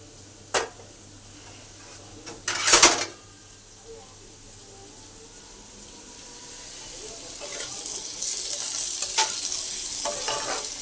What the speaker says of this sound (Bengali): তো চলো ভাজাটা ভেজে নিই